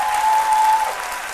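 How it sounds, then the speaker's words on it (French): Brief burst of TV studio audience applause, a thick roar of many clapping hands that drops off partway through, with a thin steady tone running alongside the first part. "que je vous demande d'applaudir"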